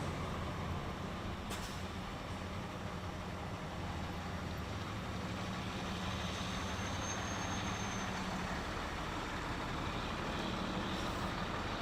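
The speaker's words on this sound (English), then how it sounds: "let's bring the truck out." A truck is driven out for an unveiling at a West Virginia government event, giving a steady, continuous engine rumble with broad road-like noise throughout, moderately loud with no talk over it.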